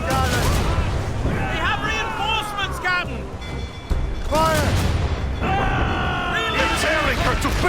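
Ship cannons firing in a naval battle in Assassin's Creed Rogue: booming shots land amid loud crew shouting, crashing wood and battle noise, with voices barking orders throughout.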